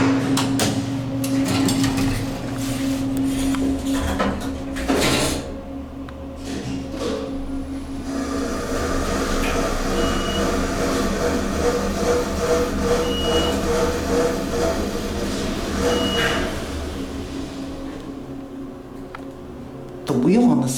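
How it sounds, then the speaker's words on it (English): A Westinghouse traction elevator runs at the University of Houston's Stephen P. Farish Hall, with a continuous mechanical rumble and whir, a rough, noisy wheel, and occasional clunks and faint tones as the car moves. Voices talk intermittently underneath. "The wheel on this elevator doesn't sound too good"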